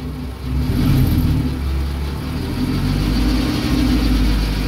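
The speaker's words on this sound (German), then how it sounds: "Gib mal ein bisschen Gas." A VW Golf IV with a V5 engine and a newly fitted used exhaust from the catalytic converter back, revving lightly with a steady low rumble that swells slightly and holds, heard close by.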